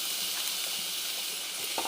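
Tomatoes sautéing in a pan with ginger-garlic paste for a Tamil egg curry give off a steady, broad sizzling hiss, moderately loud and continuous, with no talking.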